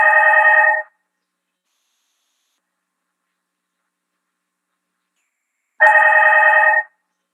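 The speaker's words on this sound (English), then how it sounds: "So someone probably got a random call on that phone, and it rang" Telephone left connected in a laser room, ringing twice in short electronic trills about five seconds apart, each lasting under a second, with silence in between.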